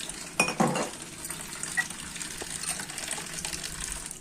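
Glass cups clink and knock together while being rinsed in a kitchen, a few sharp chinks near the start followed by softer scattered taps over running water.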